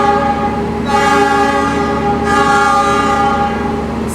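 A loud, sustained horn blares with rich harmonic tones as the Ranggajati train's locomotive departs, over rumbling rail noise, close by and continuous.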